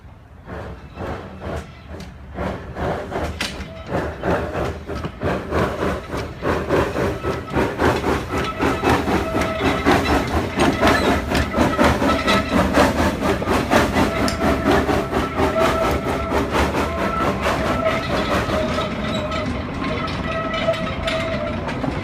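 A steam locomotive pulls a passenger train out of the station, its chuffing and clanking rhythm building in loudness and speed, with rattling metal and a steady rumble.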